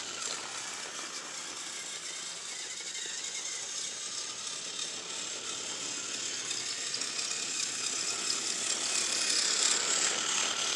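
A Trackmaster Lady toy train engine runs along its track pulling a royal carriage, giving a steady whirring, ratcheting mechanical clatter that stays fairly constant and grows slightly louder toward the end, with no voices.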